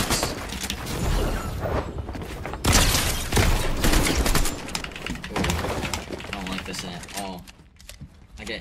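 Shotgun blasts in a Fortnite match ring out in bursts amid game sound effects, with a player talking over them throughout.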